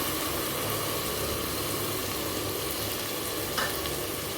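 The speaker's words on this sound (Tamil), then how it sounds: "நல்லா இஞ்சி பூண்டு வாசம் போகிற வரைக்கும், பச்சை வாசம் போகிற வரைக்கும் நல்லா ஃப்ரை பண்ணிக்கலாம்" Ginger-garlic paste and tomato paste fry in a pan for mushroom biryani, giving a steady, soft sizzle and crackle heard alone at low volume.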